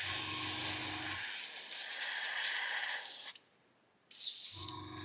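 Paint sprayer with a 0.2 nozzle spraying VMS No Peel primer, a loud, steady close hiss that runs for about three seconds, stops for a brief silent gap, then starts again, with a low pump hum at the start and end.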